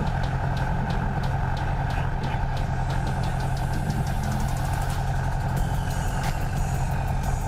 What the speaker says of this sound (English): Now that our engine is started